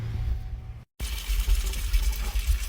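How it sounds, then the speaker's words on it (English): Water runs and splashes while glass jars are rinsed at a sink, a steady close gush that cuts out briefly and then resumes just as strongly, with no voices. "I'm going to go clean out my jars with some water."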